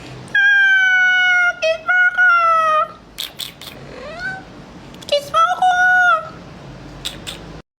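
Cats give several loud, drawn-out meows close by, some stretched and wavering, with short breaks between calls. A voice that may be imitating the cats also sounds between them.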